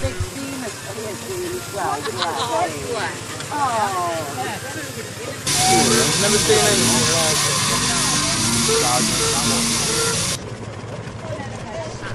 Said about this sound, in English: A view of the world from the standpoint of a miniature traction engine as it heads down the road